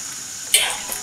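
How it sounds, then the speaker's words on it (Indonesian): Crispy battered sausages with garlic frying in hot oil over a fairly high flame, a brief burst of sizzling that flares up midway and then settles, close and moderately loud. "dan goreng dengan menggunakan api agak besar atau api besar, sesuaikan nyala kompor masing-masing ya guys."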